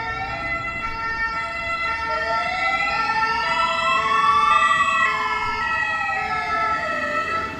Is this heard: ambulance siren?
yes